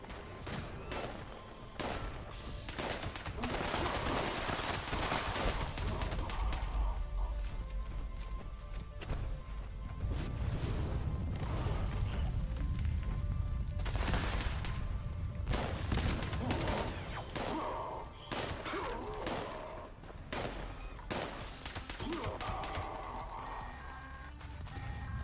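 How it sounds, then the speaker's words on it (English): Gunfire while shooting enemies in Fallout 76 comes as repeated sharp bursts over a noisy game mix with rumbling impacts, loud and sustained for about twenty-five seconds. "It really is satisfying to shoot things."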